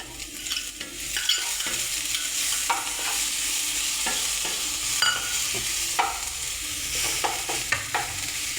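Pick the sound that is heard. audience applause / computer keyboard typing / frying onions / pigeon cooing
frying onions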